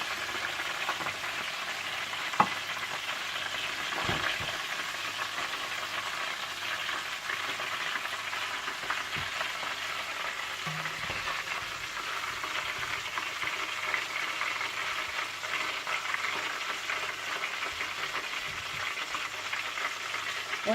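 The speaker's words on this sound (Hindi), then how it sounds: "और इसी तरह से आप बाकी चिकन को भी फ्राई कर लीजिएगा।" Chicken drumsticks deep fry in oil over low heat with a faint, even bubbling sizzle and a few soft clicks of a utensil, continuous throughout with no talking.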